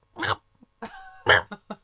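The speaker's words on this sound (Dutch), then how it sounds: "dit is een beetje een soort miauw vermengd met een soort kuchje." A cat's short raspy calls, meows blended with little cough-like huffs, several in quick succession up close.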